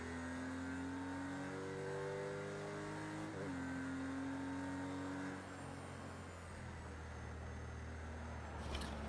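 Porsche race car engine in a racing video game, a sustained mid-pitched engine whine with shifting gear tones, rising and falling steadily at moderate loudness with no talk.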